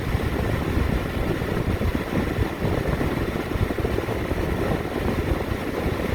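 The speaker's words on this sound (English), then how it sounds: "now I'm gonna turn cruise off, come back down to idle, and see what happens." An RV diesel engine settles back toward idle after cruise is switched off, giving a close, steady, rumbling drone with a rough texture that holds level throughout, with no talking.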